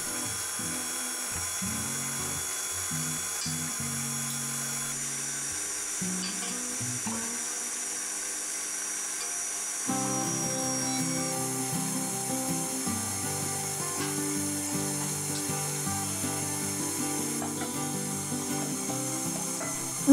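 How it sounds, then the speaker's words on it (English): A stand mixer runs steadily as flour is gradually added to fruity, spiced teacake dough, its motor whirring continuously with shifting tones as the load changes and a slight surge partway through. "I'll be adding mine a little at a time while the machine is running"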